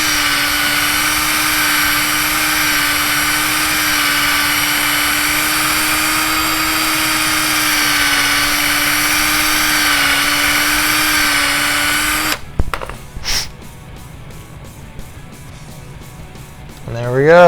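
A drill bit spins inside the hub of a Tekno NB48 2.1 RC buggy to clean it out, a loud steady whine for about twelve seconds that stops abruptly, followed by quieter clicks and handling noises.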